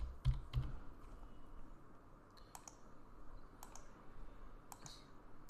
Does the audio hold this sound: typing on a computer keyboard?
yes